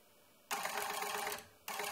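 A homemade CNC machine driven by small motors salvaged from optical drives whirs steadily for about a second, goes quiet briefly, then starts moving again, close and fairly loud with no talking.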